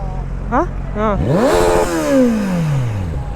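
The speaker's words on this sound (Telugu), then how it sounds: "ఆ బండి సౌండ్ అడగండి ఒకసారి." A sports motorcycle, a Kawasaki sport bike among other big bikes, revs up in rising and falling whines, close and loud, the pitch climbing sharply then sliding down as it pulls away.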